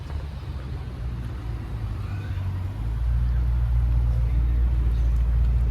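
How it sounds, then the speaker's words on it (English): A Chevrolet Corvette C8 rolls past at a car show, its low engine rumble swelling from a steady drone to a louder, fuller roar over the second half, with background crowd and outdoor noise throughout. "there's a really pretty Corvette rolling"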